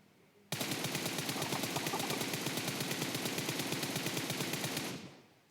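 Sustained automatic gunfire from a PUBG Mobile match on the Erangel map, a rapid, steady stream of loud shots lasting about four and a half seconds before cutting off, with no talk over it.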